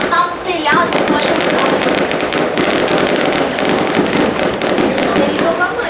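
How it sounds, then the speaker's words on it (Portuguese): A fireworks battery set off at a church for the 2010 New Year crackles in dense, rapid, loud bangs without pause, with people talking underneath. "A gente soltou uma bateria de fogos"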